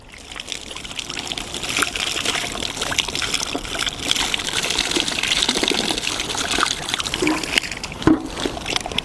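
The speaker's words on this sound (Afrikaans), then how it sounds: "OK, geborsel, afspoel met koue water." Suppressor parts rinsed under cold running water, a steady broadband gush and splash that continues throughout at moderate loudness with no talking.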